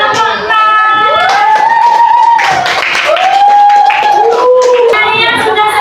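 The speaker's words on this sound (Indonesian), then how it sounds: "Hari tepuk tangan pada kelompok 4." Classroom applause for a student group: a few seconds of clapping from a room of students, with voices calling out over it throughout.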